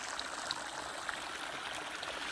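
Hot spring water flows down from a Himalayan mountainside at Panamik in Ladakh and collects in pools. It makes a steady, faint, hissing trickle, with no voices over it.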